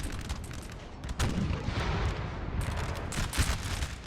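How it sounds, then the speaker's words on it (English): Heavy artillery booms in a Napoleon: Total War battle, with several loud deep blasts and rolling cannon fire in close succession and continuous rumbling battle noise between the shots. "Again, just a massive artillery duel."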